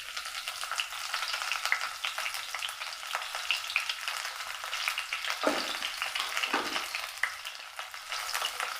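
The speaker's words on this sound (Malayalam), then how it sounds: "നല്ലപോലെ ഒന്ന് മൂപ്പിച്ചെടുക്കാം." Crushed garlic, ginger and curry leaves fry vigorously in hot coconut oil, a dense crackling sizzle heard up close with a couple of brief stirring scrapes, no voices.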